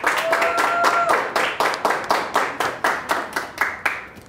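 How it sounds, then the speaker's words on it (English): Applause from an award-show audience, dense and loud at first, then thinning into distinct rhythmic hand claps near the microphone. A brief steady tone sounds early on. "Marlene, this applause is for you."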